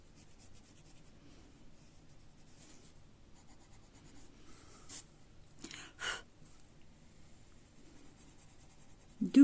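Soft, quiet scratching of a pencil lightly shading a drawing of fairy wings on paper, faint continuous strokes near the microphone with a couple of louder scrapes and a brief bump at the end.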